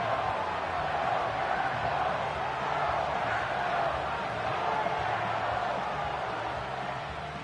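A large stadium crowd at an American football game roars steadily as play reaches third down, a dense, sustained wash of noise heard from within the stands.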